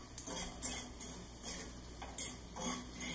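Creamy potato soup stirred in a pot: a spoon knocks and scrapes against the pot's sides in a loose rhythm, light clinks roughly every half second, quiet and close, with no talking.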